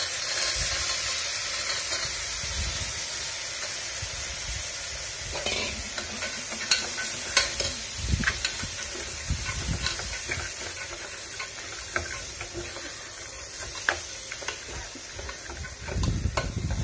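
Washed kidney beans go into a pan of sizzling onion, tomato and masala, setting off a loud frying hiss, followed by repeated scraping and stirring with a spoon against the pan.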